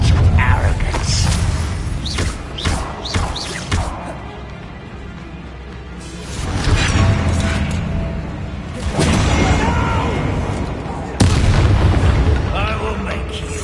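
Blasting-spell explosions in Hogwarts Legacy go off in several heavy booms spread through the passage, mixed with game effects and voices speaking over the action.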